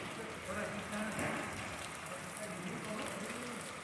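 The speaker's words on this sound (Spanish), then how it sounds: "Ya tiene mucho rato lloviendo y pues el agua continúa." Rain falls steadily at night on the grounds of a rural primary school, a soft, even patter heard faintly with a quiet voice now and then.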